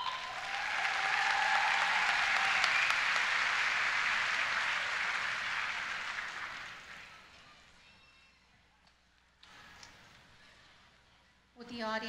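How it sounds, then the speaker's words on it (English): A graduation ceremony audience claps in a broad, sustained burst of applause that swells then fades out over several seconds, leaving quiet room sound with brief murmurs and a voice at the end. "Audience, please hold your applause until all the candidates have been announced."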